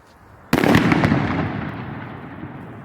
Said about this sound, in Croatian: I zadnja petarda za danas, vražja iz Mirnovec pirotehnike.